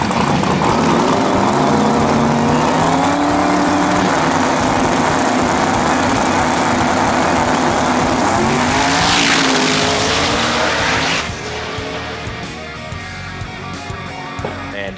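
Drag racing cars at a radio drag race at Orlando Speed World roar loudly and continuously, the engine note climbing in a rising sweep before the sound drops away to a quieter, distant rumble near the end.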